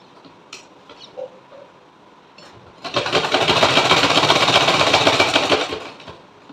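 A sewing machine stitches lace onto a small designer dress for a Laddu Gopal idol. Faint handling noises come first, then a loud, steady run of motor whirring and needle chatter lasts about three seconds before it stops.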